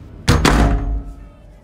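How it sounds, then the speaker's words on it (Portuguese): A heavy wooden door slams shut in an old house, two quick loud thuds in succession followed by a short fading resonance, alone without talk. "e fechou a porta com um estrondo."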